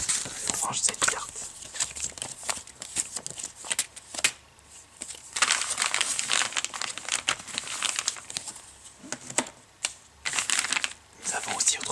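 A paper map from a Witcher 2 Enhanced Edition box being folded and put away, with close, crisp crinkling and rustling in uneven bursts throughout, under intermittent soft speech.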